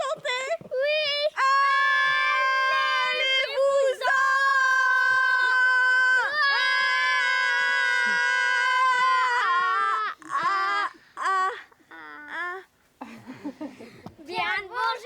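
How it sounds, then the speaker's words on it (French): Children in a stage play of My Neighbor Totoro screaming about ghosts in a haunted house, long sustained high-pitched shrieks in chorus, then shorter cries and some excited child speech near the end. "On vous a entendu crier"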